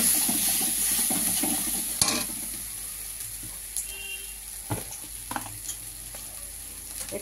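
Ginger spice paste with turmeric fries in a pan, a steady close sizzle with brief stirring scrapes and clinks as the paste cooks down before gourd is added.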